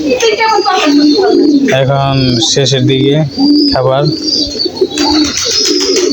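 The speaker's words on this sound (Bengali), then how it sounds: "ওই যে আর একটি উঠে গেল কবুতর।" Pigeons being fed by hand coo close by in soft, repeated phrases, mixed with a few chirps while a person talks over them.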